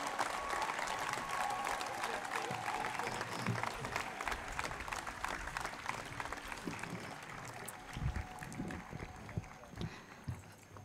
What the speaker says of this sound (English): Please give a huge round of applause for all the graduating students today.